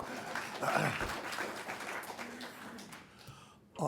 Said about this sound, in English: a round of applause for the poem, because it was very good